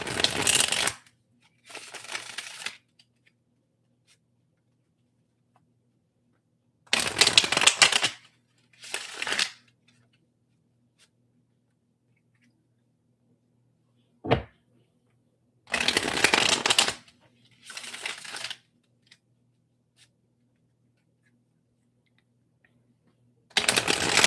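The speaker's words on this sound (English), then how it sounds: "let me shuffle." Tarot cards are shuffled in several distinct rustling, riffling bursts separated by quiet pauses, close and crisp, with one sharp tap in between.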